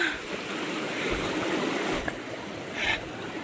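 Stream near Daarji waterfall near Rohini being crossed, a steady rushing wash of flowing water with a few faint splashes and scuffs, near and continuous.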